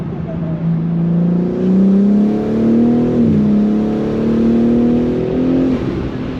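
BMW M3 fitted with a BMS intake, driven in M mode, revving from inside the cabin with a steady, rising and falling engine drone that stays loud and close throughout.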